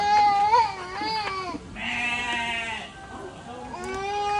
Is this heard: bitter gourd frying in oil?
no